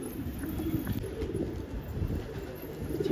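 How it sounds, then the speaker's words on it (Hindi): Pigeons coo softly in low, throaty murmurs against a breezy outdoor background, faint and continuous. "ये आ गया भाई कबूतर, ये आ रहा भाई।"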